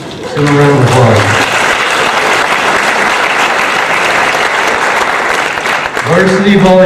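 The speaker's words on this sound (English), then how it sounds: "Give him a round of applause" Loud, sustained applause from a crowd at a school fall sports awards ceremony honoring a JV volleyball MVP, with a voice speaking briefly at the start and again at the end.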